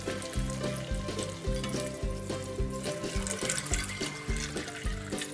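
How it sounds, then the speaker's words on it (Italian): Water pours into a bowl to cover half a kilo of dried borlotti beans, a continuous splashing rush over a steady, rhythmic background. "prendiamo mezzo chilo di fagioli borlotti e andiamo a coprire con l'acqua."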